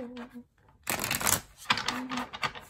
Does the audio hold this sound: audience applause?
no